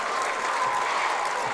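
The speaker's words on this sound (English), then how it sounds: "You can see the Lawrence County faithful on their feet, cheering on their dogs." Lawrence County basketball fans cheer and applaud from the stands at a boys' regional tournament semifinal, a dense, steady wash of crowd noise and clapping with no clear single voices.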